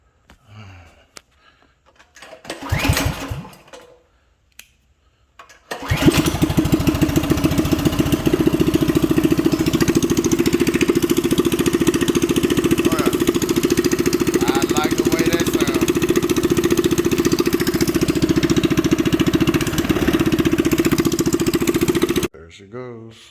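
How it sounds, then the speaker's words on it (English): A Coleman CT200U-A mini bike engine fitted with a straight pipe and no muffler gives a brief sputtering start attempt, then catches and runs loud and steady with a harsh, rapid exhaust chatter for about sixteen seconds before cutting off. "Okay, gonna start it without the muffler."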